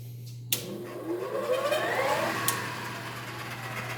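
An American Rotary three-phase rotary converter motor spins up in a shop, running off two incoming legs. A steady low hum sits under a rising mechanical whir that starts abruptly and holds at close range, with no talk.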